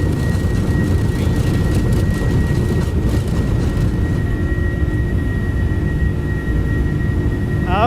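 Airliner taking off in the X-Plane 11 flight simulator, a steady loud jet engine roar with a sustained whine running throughout, constant and close, with no talk over it.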